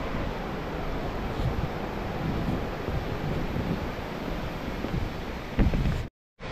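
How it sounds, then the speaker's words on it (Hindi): A waterfall beside the bamboo trail on the Mawryngkhang trek in India, heard as a constant roaring rush of falling water. Wind buffets the microphone, and the sound cuts out briefly near the end. "भाई ये क्या है, झरना है यहाँ तो।"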